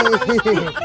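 A brief, loud burst of rapid chicken calls, a gobbling, clucking rattle heard up close.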